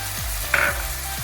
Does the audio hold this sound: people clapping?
no